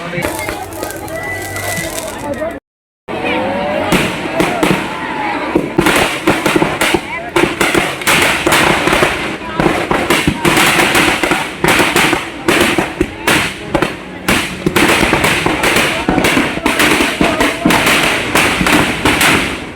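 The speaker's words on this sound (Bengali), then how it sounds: "অনেক বাজি ফোটানো হচ্ছে" Firecrackers and fireworks go off at a Ravan Badh festival celebration: dense, loud, rapid bangs and thuds crackle throughout, under a crowd and people talking, with a brief drop-out near the start.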